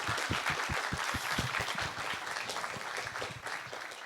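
An audience applauds after a talk at a conference, with distinct close hand claps over a thick continuous layer of clapping that thins slightly toward the end.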